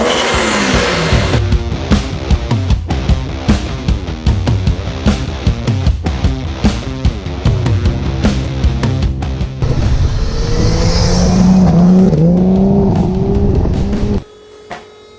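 A VH Commodore with a 2JZ engine swap and custom 3-inch exhaust revs hard in loud, choppy pulses, then climbs into a sustained high-pitched blast before cutting off abruptly.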